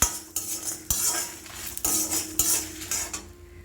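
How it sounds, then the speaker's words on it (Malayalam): Coriander and chillies dry-roasting in a pan, heard as repeated metal spatula scrapes and clanks against the pan over a faint sizzle, with several sharp strokes at an uneven pace. "ഇറച്ചി മസാല വറുത്ത് കോരിയെടുത്ത് ഇനി മല്ലിയും മുളകും കൂടെ നമുക്ക് വറുത്തെടുക്കാം"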